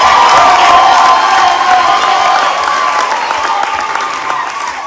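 A church congregation cheers and applauds for a deaconess during a deacon consecration ceremony at Kabod Church, a loud, steady wash of crowd applause and whoops that holds throughout and eases slightly toward the end.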